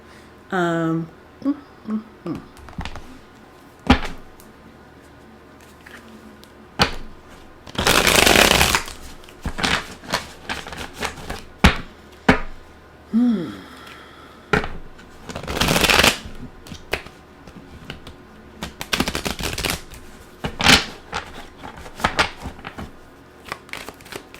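A deck of tarot cards being shuffled in repeated riffling bursts, some long and loud, others short flicks and taps, close up with pauses between.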